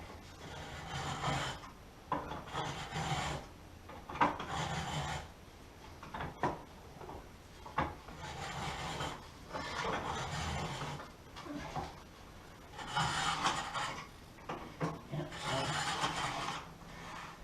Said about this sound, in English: Taking off minute shavings all the time until I reach my 8mm depth.